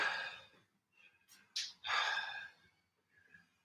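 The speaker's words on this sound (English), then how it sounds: "I am breathing heavy" Heavy, winded breathing after a leg-day workout: a few loud gasping breaths and exhalations at close range, with pauses between bursts and a fainter breath at the end.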